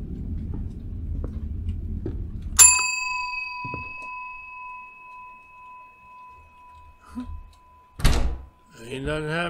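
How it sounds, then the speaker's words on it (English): An apartment doorbell rings once with a bright tonal ding that rings on and slowly fades. A thump follows later, and a voice speaks near the end. "Ring that bell, here we go."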